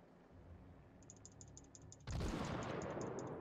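Naval gunfire in the World of Warships video game on a Tier VI cruiser, a sudden loud booming blast that cuts in after a quieter ambient stretch with a repeating high beeping tone, then a sustained roaring rumble.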